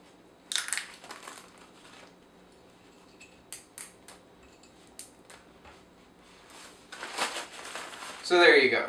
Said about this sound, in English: 28 grams of noodles broken up into more bite-sized pieces